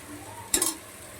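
Mutton and tomato masala sizzling in a pan as it is stirred for biryani gravy, a brief burst of frying hiss and scraping over a low, quiet background, with no voices.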